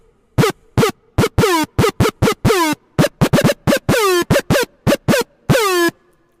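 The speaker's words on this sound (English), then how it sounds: "So that's just me jamming on the keyboard" A synthesizer patch in Native Instruments Massive is played on a keyboard in a trap-style sound, with about twenty short, punchy notes whose pitch swoops downward. They fire in an uneven, jammed rhythm, loud and close, with gaps of silence between.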